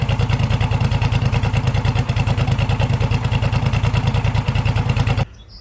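A hot rod tractor's old engine runs loud and close with a rapid, even chugging pulse that cuts off abruptly near the end.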